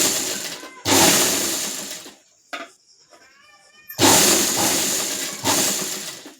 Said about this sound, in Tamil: தையல் போட்டு கீழே இருக்கிற துணியை இப்படி நவுத்தி விட்டு தைங்க